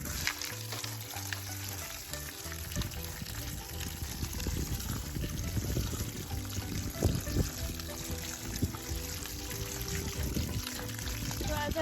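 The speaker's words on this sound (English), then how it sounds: "So as I'm letting the food soak in water, I bring Toby's supplement over here" Water poured into a bowl of dry pet food to soak it for two dogs' morning meal, a steady close trickle with light crackling of kibble and faint background household noise.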